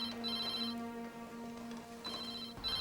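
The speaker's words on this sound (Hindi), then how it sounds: "बेटा जरा फोन देख तो, मेरे रूम से उठा तो प्लीज।" A telephone ringing in a household scene from a television drama, a steady electronic ringtone repeating in bursts, moderately close and with no talk over it.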